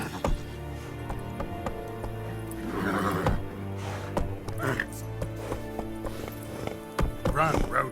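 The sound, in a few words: horse hooves galloping, Roach in the video game The Witcher 3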